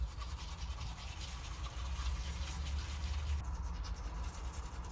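Toothbrush scrubbing teeth up close, a steady continuous rubbing and brushing that runs the whole stretch, fairly quiet and alone with no talk.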